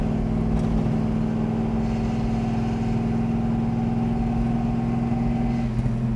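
A 1966 Chevrolet Malibu Chevelle engine runs at a steady idle close by, a continuous low rumble with no revving and no talk over it.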